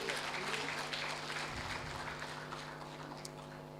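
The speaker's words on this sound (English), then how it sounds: "Can we please give him another powerful round of applause?" Applause from the audience at the North West Nigeria for Women Project Scale-Up Summit, a steady wash of clapping that fills the hall for several seconds under a faint hum.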